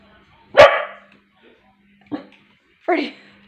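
A dog barks at something outside: three sharp, close barks separated by pauses, the first loudest, with a faint low hum underneath.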